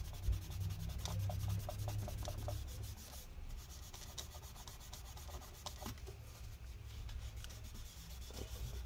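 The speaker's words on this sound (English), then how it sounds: "Let's make sure to clean off all this residue." Quiet, rhythmic scrubbing and rubbing as adhesive residue is cleaned off a 2017 13-inch MacBook Pro A1706 with rubbing alcohol, a soft, close-up friction sound with low rumbling in the background.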